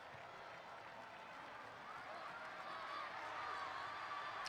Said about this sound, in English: Crowd really getting behind Brazil.